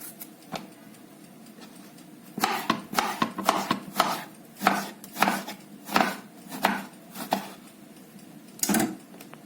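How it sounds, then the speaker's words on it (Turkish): Steady knife chops through potatoes and eggplants on a wooden board, a run of firm evenly spaced strikes close by after a quieter start. "Patates ve patlıcanlarımızı doğradık etimizin içerisine."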